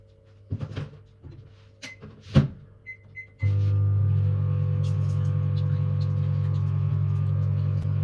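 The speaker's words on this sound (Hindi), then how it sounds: "माइक्रोवेव में नॉर्मल कर लेते हैं" A few clicks and knocks, then a steady low electric hum of a microwave oven heating food starts and continues, with faint voices in the background.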